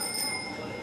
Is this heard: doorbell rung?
yes